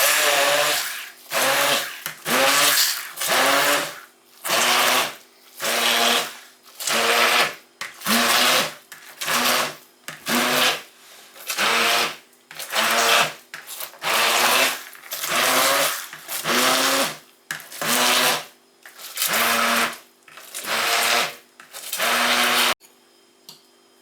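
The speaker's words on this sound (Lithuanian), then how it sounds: "Dabar imam trintuvą" A blender grinds homemade cheese curds for aged cheese in a long run of short, loud, pulsed bursts with brief gaps between them, about a dozen pulses, close up and without voices.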